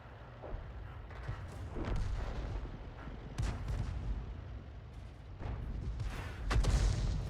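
A 105 leFH18B2 self-propelled gun in a tank battle video game fires, with several dull, moderately distant booms and rumbling blasts spaced across a quiet, noisy battlefield.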